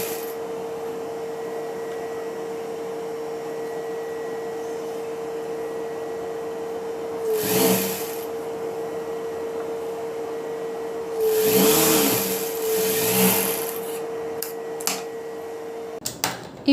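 Electric sewing machine stitching along a folded Semi Patiala pant, a continuous close motor hum punctuated by short rustles and handling bursts of the cloth, ending with a few sharp clicks; no voices.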